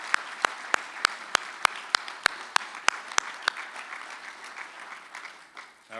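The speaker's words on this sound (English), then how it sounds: "Let's give them all a round of applause for the big help." A convention audience gives a round of applause that begins as a series of loud, evenly spaced rhythmic claps, then loosens into scattered clapping that fades out.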